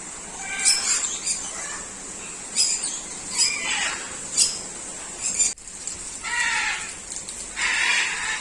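High-pitched squeaky bird squawks and chirps come in short bursts over a steady background hiss, fairly close, with brief pauses between calls.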